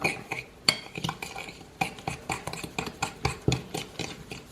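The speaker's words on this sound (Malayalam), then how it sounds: "നമുക്ക് മുട്ടയും പഞ്ചസാരയും നല്ലതുപോലെ അടിച്ചെടുത്തിട്ടുണ്ട്" Quick, rhythmic metallic tapping and scraping of a whisk against a bowl as eggs and sugar are beaten by hand, steady and close, with no voices.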